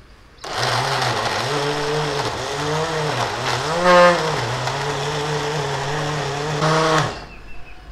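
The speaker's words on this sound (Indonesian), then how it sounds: "kita masukin bumbunya semuanya ke blender" A kitchen blender grinding spice paste for a mackerel dish, whirring steadily for about six and a half seconds with a wavering pitch as the paste churns, loud and close before cutting off.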